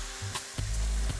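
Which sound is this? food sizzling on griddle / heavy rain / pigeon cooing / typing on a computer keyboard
food sizzling on griddle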